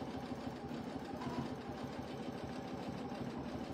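A sewing machine does free-motion quilting of hex blocks with its stitch regulator engaged, giving a steady, fairly faint, fast mechanical whirring with a rapid stitching pulse throughout.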